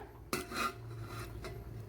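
A metallic clank as a lid settles onto a pot of mushroom pasta masala, followed by faint scraping and a softer knock, with quiet kitchen background.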